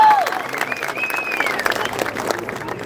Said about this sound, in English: You should be applauded for that.